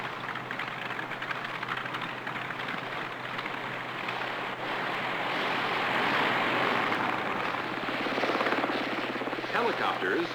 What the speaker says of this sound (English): Helicopters have become the primary means for rescue.